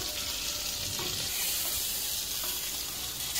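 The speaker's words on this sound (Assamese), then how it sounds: "মছলাটো ভালকৈ ভাজি লওঁ" Spice masala with coriander powder and salt sizzles steadily in a hot pan while being stirred, a dense continuous frying hiss with faint scraping, close and fairly loud, with no voices.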